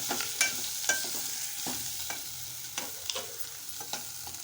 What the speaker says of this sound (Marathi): आता मी उकडलेला बटाटा घालत आहे, मिश्रण छान एकजीव करून घेत आहे